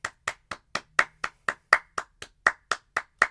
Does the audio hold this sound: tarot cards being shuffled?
no